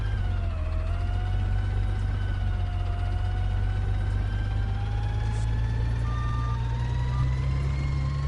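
A garbage truck in the Roblox video game backs up with a loud, continuous electronic reversing tone over a heavy, droning diesel engine rumble, close and steady throughout.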